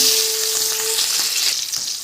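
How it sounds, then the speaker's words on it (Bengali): Prawns sizzle and fry in hot oil in a pan, a steady loud crackle and hiss with no talking over it. "চিংড়ি মাছগুলো ছেড়ে দেব"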